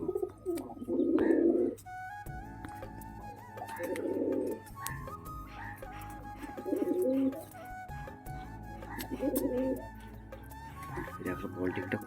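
Pigeons coo close by in repeated soft, throaty bursts about every two to three seconds. Someone talks over them in a low voice throughout.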